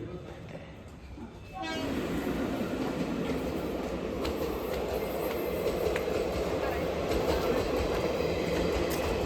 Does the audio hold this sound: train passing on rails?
yes